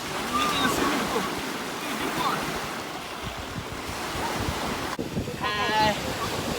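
Gusty wind buffets the microphone at Hyams Beach on Jervis Bay, mixed with the steady wash of surf, with brief voices near the end.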